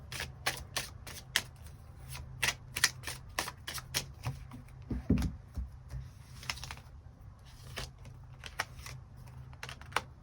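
Tarot cards being shuffled by hand before a draw, a steady run of crisp riffling snaps and papery flutters close to the listener, with a low background hum underneath and no talking.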